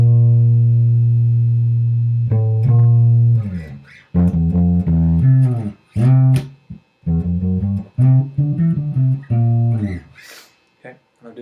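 A distorted electric guitar plays a riff with a chromatic walk-up: a long held note, then a run of short, choppy chugs and stabs with gaps between them, loud and close, with a voice briefly at the end.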